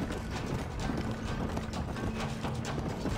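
Horse hooves clip-clop in the Red Dead Redemption game, a brisk, steady trotting rhythm heard up close and loud over a constant rumble, with no talking.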